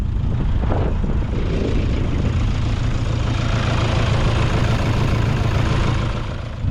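Car engine running again after a restart while smoke pours from the exhaust, stranded near Adelaide: a loud, continuous low idling rumble that stays steady throughout with no voices.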